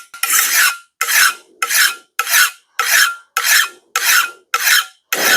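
File rasping along the edge of a brush axe to raise a burr, nine loud, evenly spaced strokes, each a harsh scrape followed by a brief pause, close up with no talking.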